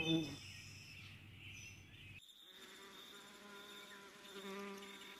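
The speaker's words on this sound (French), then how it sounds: "Ces conflits éclatent continuellement devant les ruches, où la compétition entre frelons est rude." Asian hornets buzz in flight while fighting in front of beehives, a steady insect drone that briefly gets louder near the start and holds at close range throughout.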